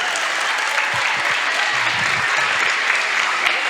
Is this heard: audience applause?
yes